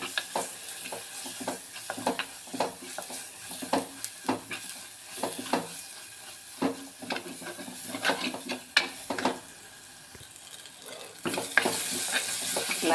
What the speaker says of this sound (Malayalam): ഇതെല്ലാം ഇട്ട് നല്ലോണം വഴറ്റുക.